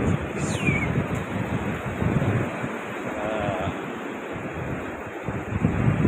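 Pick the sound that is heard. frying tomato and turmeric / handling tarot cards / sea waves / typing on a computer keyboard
sea waves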